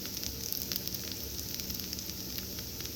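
Rava dosa batter from an instant mix sizzles in a drizzle of oil on a Lodge cast iron griddle, a bright, constant crackling hiss with small pops, nearby and alone.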